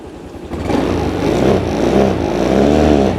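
A used Honda scooter (Scoopy, Lead125 or GT125 type) revs steadily as the throttle is twisted, a loud, continuous mid-pitched engine drone that rises after a brief quieter start and holds for several seconds without talk.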